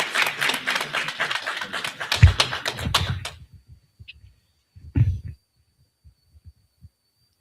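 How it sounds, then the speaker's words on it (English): An audience at a temple gathering claps for a woman coming up to speak, a burst of close applause lasting about three seconds that quickly thins to a few scattered claps and small knocks. "let's bring on Sister Bariah with a well-deserved round of applause."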